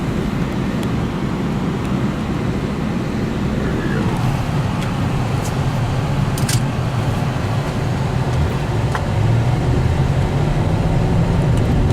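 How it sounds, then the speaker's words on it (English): A Chevy truck drives by on a road, a broad rushing roar of tyres and engine that builds and fades over several seconds, heard against steady background road noise. "I did see a Chevy truck coming. Wait for him to go past."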